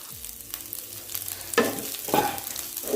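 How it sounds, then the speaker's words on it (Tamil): Rice is stir-fried over a high flame with chilli and coriander powder, giving a low frying hiss broken by three sharp bursts of spatula stirring and scraping in the pan, close by and without talk. "ஃப்ளேம் இப்போ ஹையில் வச்சு நல்லா ஒரு மிக்ஸ் கொடுப்போம்"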